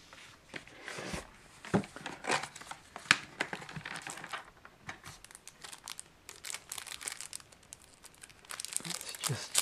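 A Magic: The Gathering Commander 2018 deck box being opened, with close, continuous crinkling and tearing of cardboard and plastic packaging in irregular bursts.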